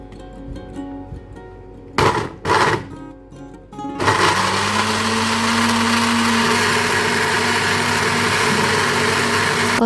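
An electric blender grinds shallots, garlic and candlenuts with a little oil: a few short pulses, then a steady, loud, high-pitched whir running on alone, close up.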